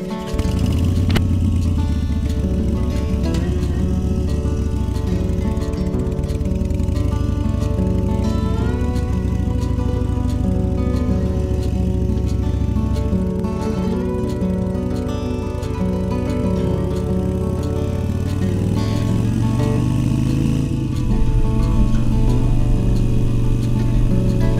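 A Harley-Davidson Iron 883 motorcycle rides through the town of Tucumcari on Route 66, its steady, loud engine drone rumbling continuously with slight pitch shifts as it shifts and accelerates, with no speech.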